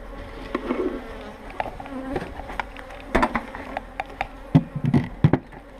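A honeybee swarm buzzes at an opened hive, a dense close hum of many bees with individual insects droning past, broken by sharp knocks and clicks from handling the hive.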